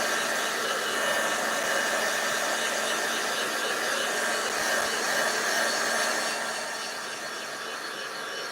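Heat tool or hair dryer blowing to dry a handmade craft piece, a continuous close, steady whooshing hum that eases slightly toward the end, with no talking.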